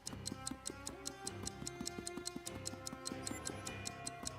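A steady clock tick-tock with a regular rhythm, set in a dark fairytale game scene with rabbit hops and a heartbeat, the ticks crisp and evenly spaced over a soft musical bed with no talking.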